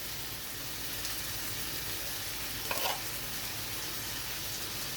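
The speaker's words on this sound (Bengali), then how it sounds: "ফুলকপিটা দিয়ে আমি একটু নেড়ে নেব খুন্তি দিয়ে।" Fried cauliflower sizzles in hot oil in a pan and is stirred with a spatula. A steady soft frying hiss runs throughout, with a brief scrape near the middle and a knock at the end, no speech.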